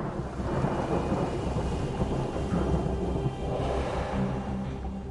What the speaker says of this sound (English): A thunderclap is heard for hundreds of miles around.